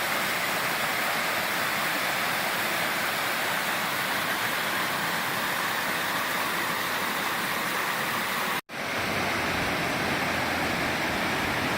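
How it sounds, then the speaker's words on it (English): Waterfall at Jacobs Falls on the Silver River in Michigan's Upper Peninsula, a steady, loud, close rush of falling water filling the whole clip, broken only by a brief dropout near the end. "Close up at Jacobs Falls."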